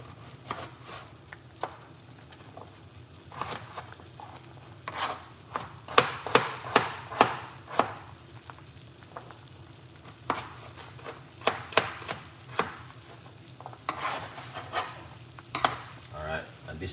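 Carrot pieces being stirred into a pot of homemade chicken soup with pumpkin, giving soft clattering scrapes and sloshing knocks that come in uneven bursts, close by and fairly quiet, with no talking.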